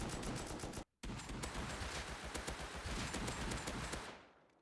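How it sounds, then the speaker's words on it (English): Automatic gunfire aimed at scientists on the small oil rig in the Rust video game, a dense sustained volley with one brief pause, continuing at steady pace before cutting off. "I just unloaded almost an entire mag into that one, and he's still not dead."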